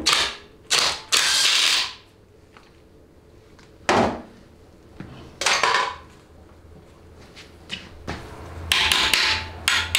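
A ratchet or wrench works a 15 mm bolt on the selector shaft nut of a 700R4 transmission during teardown, giving several loud, sharp metallic clatters and clicks separated by quiet pauses.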